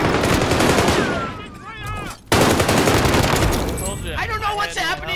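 Dense rapid gunfire in a battle royale game rattles loud and continuous, drops out briefly for a moment, then bursts back in. A voice talks over the shooting.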